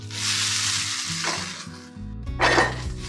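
Potatoes for hash browns fry in foamy melted butter with a loud, steady sizzle and hiss that swells and dips briefly as they settle into the pan, with no talking.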